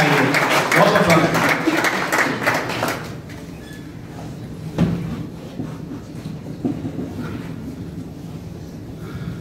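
Audience at a district employment centre event in Hapur, India applauds a chief guest, with dense clapping for the first three seconds before it thins into scattered claps and room noise.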